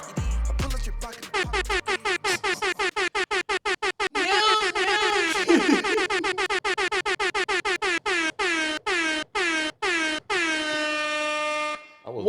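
Loud air horn blasts sound off in a rapid rhythmic string of short honks, with a few longer sustained blasts, played during a podcast.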